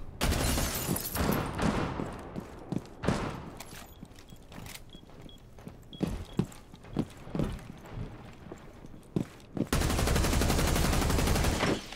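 Gunfire in a competitive first-person shooter match, with sharp shots and short bursts scattered through the scene amid footsteps, ending in a loud sustained burst of noise.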